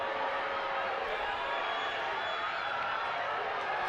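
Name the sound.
lively crowd at Saldanha vs Gardens football match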